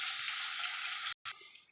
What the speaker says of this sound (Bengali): মাছ ভাজা তেলেই আমি কালো জিরে ফোড়ন দিয়ে দিলাম।